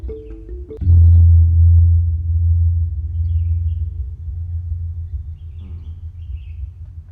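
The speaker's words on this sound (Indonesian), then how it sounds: "Itu suara gong." A big bronze gong from a gamelan set is struck once, blooming into a loud, deep humming tone that lingers and gradually decays with echoing resonance; no voices, played nearby.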